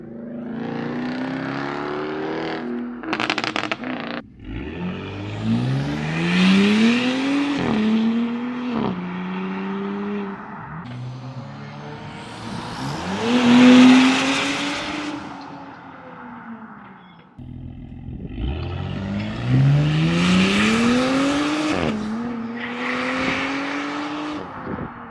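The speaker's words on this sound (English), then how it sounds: "Now we're gonna get an acceleration and a little bit of a drive-by too." A loud Audi B9 SQ5 with a raspy aftermarket catback exhaust revs hard through several gears and sweeps past nearby, engine pitch climbing and dropping in three surges.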